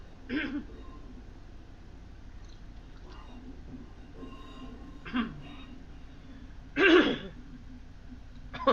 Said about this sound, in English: Sorry, I've got a cough now.